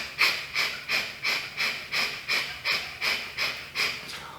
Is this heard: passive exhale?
yes